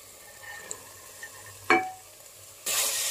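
Chana dal tipped into cooked, oil-releasing masala in a pan, giving a sharp clink followed by a sudden loud, steady sizzle near the end after quiet low background.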